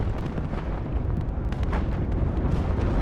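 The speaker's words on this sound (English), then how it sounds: "Got the artillery." Artillery fire in the WARNO strategy game rumbles in a dense, continuous barrage of booming blasts and low thunder, loud and unbroken.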